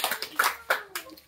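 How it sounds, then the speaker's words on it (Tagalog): Congregation clapping in a church service, a few sharp bursts of applause close by with voices mixed in. "Lakas na palakpak sa Panginoon."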